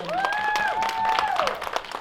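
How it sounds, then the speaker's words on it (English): An audience at a film festival youth program claps in a steady patter, with a whistle-like tone and voices mixed in. "let's give a round of applause"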